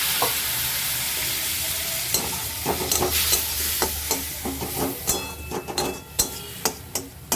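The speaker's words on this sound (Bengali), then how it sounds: "এই যে নাড়বো।" A spoon stirs a vegetarian curry of potato, pointed gourd and pumpkin with cumin powder and a splash of water, giving a steady sizzle with repeated scraping clinks against the pan that grow sharper and more frequent, close by and without speech.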